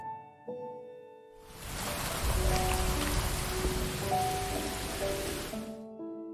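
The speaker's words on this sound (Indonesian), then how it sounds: "Ketika hujan deras turun" Heavy rain pouring down, a dense steady hiss that swells in after a quiet musical start and holds for several seconds, with soft tonal notes above it before it cuts off.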